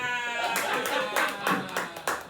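Applause from an audience at a casual debate show, a short patter of several hands clapping unevenly while people talk over it.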